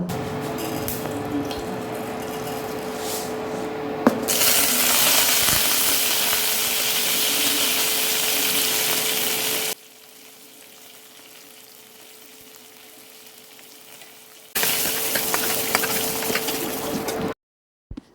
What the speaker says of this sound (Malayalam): അങ്ങനെ കടുക് വേപ്പില മുളകൊക്കെ വറുത്തെടുത്തിട്ട് കറിയിലൊക്കെ ഒഴിച്ചു കൊടുക്കുകയാണ്